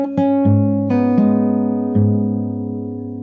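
Fingerstyle acoustic guitar plays part of a song, with a handful of plucked notes over sustained bass, slow and gentle, close and alone.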